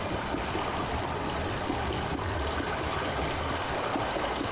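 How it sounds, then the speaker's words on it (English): Rushing water in the puzzle game Myst (2021), a loud, steady, broadband flow like a stream pouring down nearby, continuous and unbroken throughout. "Oh, this is where the water's coming from, I think."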